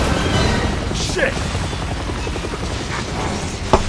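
Helicopter in the Resident Evil 6 video game, a loud steady rotor thrum filling the whole clip with a sharp impact near the end.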